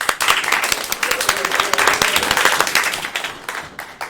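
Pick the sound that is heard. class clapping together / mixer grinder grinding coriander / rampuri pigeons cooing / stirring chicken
class clapping together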